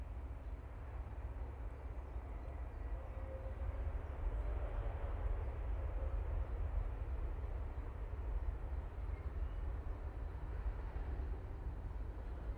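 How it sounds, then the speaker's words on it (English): A Boeing 777's jet engines spin up in the distance, a low, steady rumbling roar with a faint rising whine that grows slightly louder partway through, with no voices. "you can hear the 777 starting up around the back"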